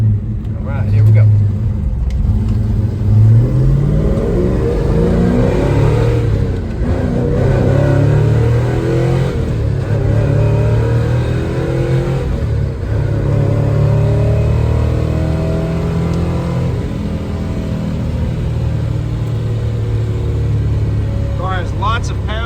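A 1969 Chevrolet Chevelle SS 396 V8 accelerates hard through its gears, a loud, steady, deep engine roar with rising pitch sweeps and brief dips at each shift.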